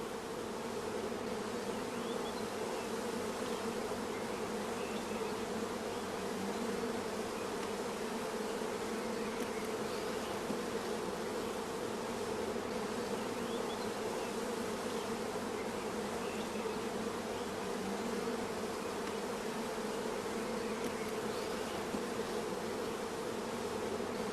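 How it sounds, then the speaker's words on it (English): Honeybees from a nursing colony buzz steadily and loudly while being brushed into a funnel for forming queen-rearing mini-nuclei, a dense continuous drone with no gaps and no voices. "The attached bees are also brushed into the funnel."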